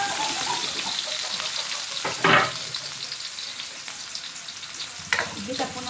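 Garlic sautés in a hot pan for a coconut-milk snail dish, a steady close sizzle broken by two short clattering stirs.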